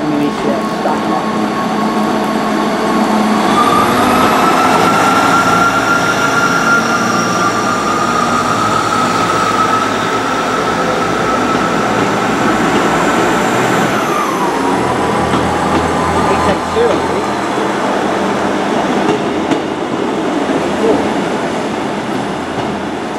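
Two coupled South Western Railway diesel units, 158884 and 158886, pass through Salisbury station with a loud, continuous rumbling roar and a sustained rising engine tone over about twenty seconds.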